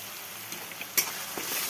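Ground ginger and green chilli paste with Kashmiri chilli fry in a pan for a traditional Bangladeshi dish, giving a steady close sizzle with a few soft stirring scrapes and one sharper clink; no speech.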